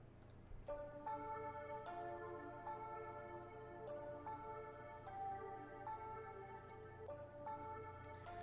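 Bright synth plucks run through an echo plugin repeat in a steady pattern, each note trailing off in echoes, quiet and close with no voices.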